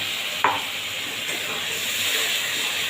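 Water from rinsing a mixer grinder bowl poured into frying masala paste for a Bengali posto dish, a sharp splash followed by a steady loud sizzle and steamy hiss.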